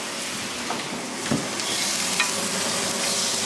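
Steaks sizzling on a barbecue, a dense, steady hiss heard close up with a few faint pops, and no talking.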